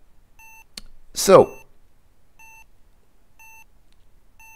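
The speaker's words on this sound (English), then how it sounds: "you hear a high-pitched beep" Repeated short high-pitched beeps in Space Quest 2, pulsing evenly and faintly, with a brief spoken word cutting in near the start.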